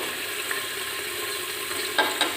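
Onions and green chili sizzle in a hot pan, a steady frying hiss with a few small pops and a light clink near the end, no voices.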